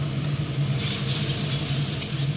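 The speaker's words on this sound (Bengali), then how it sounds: "ভালো করে ভেজে নেব।" Pabda fish frying in a pan with salt and turmeric gives a steady, close sizzle and hiss that carries on without a break.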